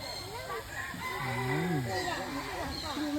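A rooster crowing at a zoo, a long wavering crow heard at moderate distance amid other fowl calls and background chatter from visitors.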